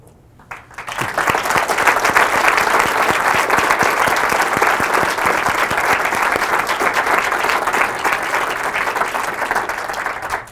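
Audience applause for veterans standing up at a community gathering, loud sustained clapping from a crowd that starts abruptly and holds steady for about ten seconds.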